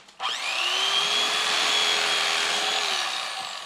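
An electric knife switches on with a sharp start and whines steadily as it cuts through a case, a close, continuous motor tone that tapers off near the end.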